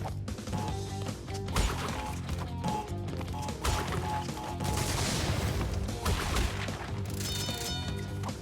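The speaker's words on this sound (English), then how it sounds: "Explosions." Explosions and crashing blasts from the Crash Bandicoot N. Sane Trilogy video game come thick and loud in a dense, continuous barrage of booms and smashes without talk.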